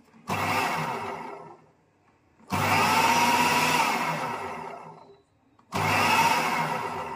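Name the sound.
food processor mashing with water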